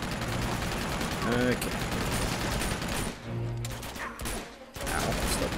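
Rapid gunfire in the Uncharted 2 city battle, bursts of shots rattling at moderate volume with a brief lull, while someone speaks briefly over the shooting.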